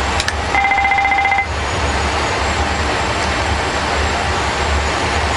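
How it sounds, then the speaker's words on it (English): A Boeing 777-200 cockpit fire overheat test alarm sounds as a brief repeated tonal beeping pattern that cuts off after about a second, over the loud steady hum of the APU and aircraft systems. "That's our fire overheat test."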